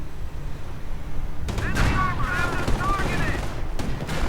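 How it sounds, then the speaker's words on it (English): Artillery barrages and gunfire crackle and boom through a WWII real-time strategy game battle, a steady rumbling layer of distant and near shots with sharper bursts mid-way. "artillery getting called in right on the armor position"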